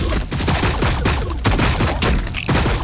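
Dense, sustained gunfire from a Warhammer 40k Battlesector battle, with rapid overlapping shots and bursts crackling continuously for the whole stretch, loud and close.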